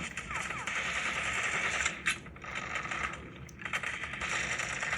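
Rapid gunfire from a mobile shooter video game played on a Poco F5 phone, sounding as dense, continuous bursts that fill nearly the whole stretch with a few short pauses.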